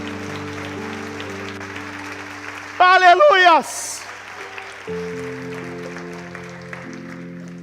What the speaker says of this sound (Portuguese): Aplauda forte o nome do Senhor.